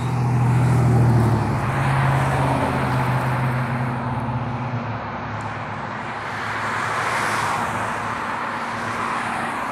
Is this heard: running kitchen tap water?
no